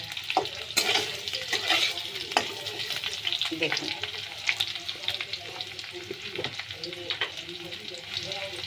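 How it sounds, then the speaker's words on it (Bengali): Potato pieces frying in hot oil for a fish and taro dish give a steady close sizzle with stirring scrapes and clinks of a utensil, while a voice speaks briefly over the cooking. "আলু দিয়ে এটাও একটু ভালো করে ভেজে নিতে হবে। আলুর গায়ে একটু জল থাকে, সেই জলটা কিন্তু তেলেতে ভাজলে ভালো করে মরে যায়।"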